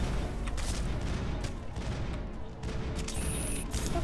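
Gunfire from the Mass Effect game, with dense bursts of shots and booms running steadily through the whole stretch, loud and continuous, with no talking.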